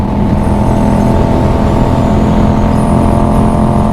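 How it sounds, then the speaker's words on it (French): Yamaha MT-07 motorcycle ridden on the road, heard from the passenger seat: a loud, steady engine drone with rushing wind, constant and close throughout, no talk. "À l'arrière de ma Yamaha MT-07,"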